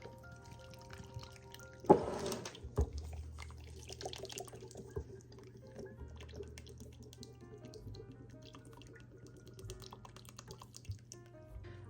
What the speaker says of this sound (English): I'm going to pour in my tomato juice